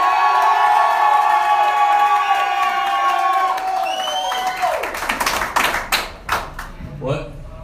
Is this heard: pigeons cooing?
no